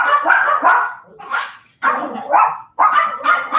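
Dog barking indoors, loud and close, in several bursts separated by brief pauses, with a whimpering yip among them.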